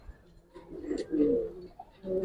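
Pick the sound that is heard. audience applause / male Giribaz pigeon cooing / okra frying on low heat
male Giribaz pigeon cooing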